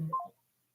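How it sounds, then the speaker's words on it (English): A phone call's disconnect tone after the line drops: a short, clear electronic two-note beep lasting about a third of a second, then silence. "My phone hung up. I didn't hang up."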